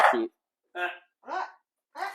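A reactive dog barks indoors in a run of four short, sharp barks spaced evenly apart, close and clear with silence between each.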